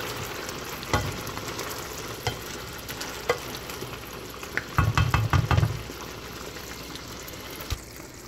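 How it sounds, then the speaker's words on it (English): Egg noodles boiling in a pot on the stove, a steady bubbling and hissing with scattered clinks and a short burst of rattling stirring in the middle. "It's really boiling up, so simmer that down."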